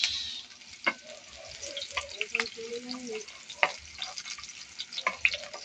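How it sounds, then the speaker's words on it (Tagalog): Chopped garlic and onion sautéing in a hot pan for chicken adobo, a soft steady sizzle with a few sharp utensil clicks and scrapes scattered through, close and moderately quiet. "Unahin ko muna itong igigisa itong ating bawang sibuyas."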